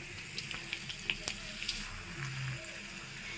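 Ariselu, sweet rice cakes, frying in hot oil, a soft steady sizzle with small crackling pops, quiet and close, with light stirring sounds.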